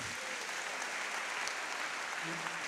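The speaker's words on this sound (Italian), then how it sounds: "Fate un applauso a tutti loro" A church congregation applauds steadily, a dense and continuous clapping that fills the hall, moderately distant and without talk over it.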